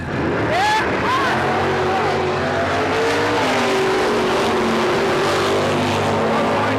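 Loud, constant roar of race car engines at Rocky Mountain Raceway with rising and falling whines and revving, close by, with voices partly buried under the din.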